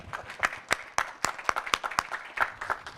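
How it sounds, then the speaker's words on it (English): Scattered audience clapping at a venture capital panel on health tech startups, a thin run of individual claps rather than a full ovation, moderately distant and fading in and out over a few seconds. "applause."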